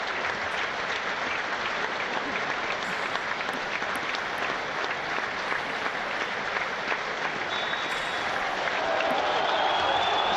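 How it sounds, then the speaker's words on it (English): A football stadium crowd at Portsmouth versus Sunderland gives a minute's applause, a broad, steady roar of distant clapping from thousands of spectators with no break. "So a minute's applause for Sven Göran Eriksson this afternoon"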